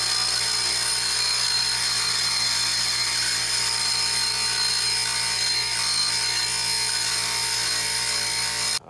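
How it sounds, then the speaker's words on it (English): A bench grinder grinds down a cast foot peg part for a Coleman CT200U mini bike, a loud, steady high-pitched whine that runs without a break for about nine seconds, with no talking over it. "So we will go to the grinder and do that."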